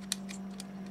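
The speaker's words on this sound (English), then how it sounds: "Snap it into place." A telephone connector snaps into place in a breakout box, giving a few faint, quick clicks over a low steady hum.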